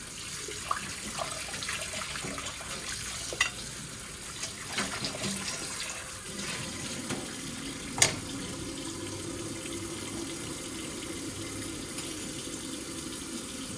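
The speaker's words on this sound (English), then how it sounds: "I always turn the faucet off and then have to turn it back on for the fork." A kitchen faucet runs steadily into a sink while a bowl is washed, a continuous close hiss of water broken by a few light clinks and knocks of the dish, with no voices.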